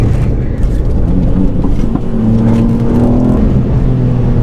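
A tuned 290 bhp Ford Fiesta ST MK8 hatchback lapping a race track, its engine droning loud and steady from inside the cabin, pitch rising and falling slightly with throttle and gear changes.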